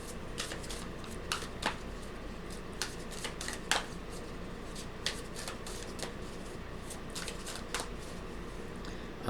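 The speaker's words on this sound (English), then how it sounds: "Pull an overall card here." Spellcrafters tarot cards are shuffled and pulled, giving a steady rustle of riffling and sliding cards with sharp flicks and snaps throughout, heard close up.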